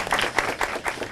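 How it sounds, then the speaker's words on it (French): Studio audience applause, a brief burst of close, dense hand clapping with irregular rhythm, lasting just over a second. "On va applaudir pour vous."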